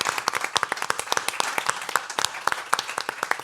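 Modest audience applause at a Spanish-language compliance seminar, a thin scattering of distinct claps in irregular rhythm that keeps going throughout, fairly close and moderately loud, with no talking over it.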